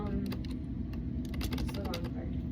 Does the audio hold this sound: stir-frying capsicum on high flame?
no